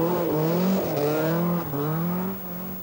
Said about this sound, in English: his engine sounds far from perfect